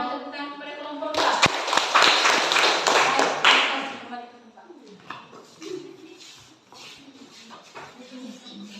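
A classroom group gives a short round of applause for group A, a burst of clapping lasting a few seconds, mixed with voices and followed by continued talk.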